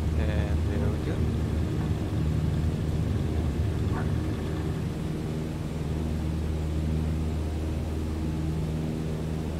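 A Cessna 152 engine in Microsoft Flight Simulator 2020 drones steadily through a climb on a flight from Antwerp to Lelystad, a constant loud hum with an even tone throughout.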